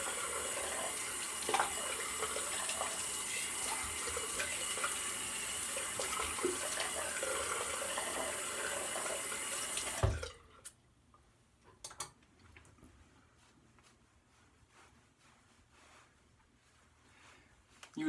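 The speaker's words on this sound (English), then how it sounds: "Do a quick rinse off and we'll finish this up." Water runs from a tap for a quick rinse after a shave, a steady close splash that stops suddenly partway through, leaving faint taps and small clicks in a quiet room.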